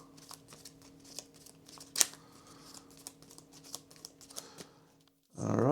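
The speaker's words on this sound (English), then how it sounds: "These get shuffled." Virtual cards shuffle in the deck-building video game Unstoppable: soft, quiet rustling clicks over a low steady game hum, with one sharper snap midway and a louder burst of in-game sound at the very end.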